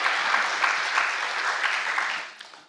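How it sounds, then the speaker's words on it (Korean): A church congregation claps together, a dense steady applause close by that fades out toward the end. "방송실 정신 차리고 잘하라고 박수 한번 쳐주시고요."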